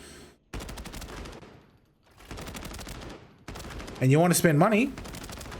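Bursts of automatic fire from a 5.8 rifle in the Arena Breakout Infinite video game, three sustained volleys with short pauses between them, loud and close, with someone talking over the last burst.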